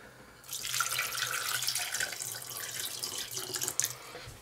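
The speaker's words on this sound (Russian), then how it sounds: "Добавляем воды." Water pours steadily from a tap into a pot for about four seconds while fish preserves sauce is being made in a home kitchen, a close, continuous splashing stream.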